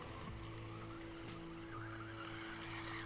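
A Kyosho Fazer MK2 RC buggy sliding across dirt, a steady high motor whine with a brief skid, heard from a distance with no talk.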